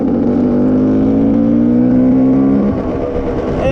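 A Lambretta scooter engine runs steadily close by on a cold start, a loud continuous mechanical drone with a slight rise in pitch before settling, with no talk over it.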